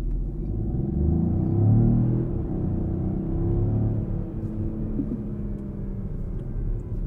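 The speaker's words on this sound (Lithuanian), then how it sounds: "Girdisi, aišku, variklis" A Peugeot 5008 mild-hybrid family car accelerates hard at full throttle in sport mode, giving a steady low engine drone and rumble from inside the cabin that swells slightly, then holds even.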